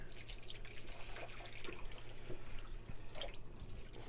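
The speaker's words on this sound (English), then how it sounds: "We're going to rinse it with fresh water." Tap water runs steadily into a sink, splashing and dribbling over raw meat being rinsed under cold water, with small drips and shifts in the flow.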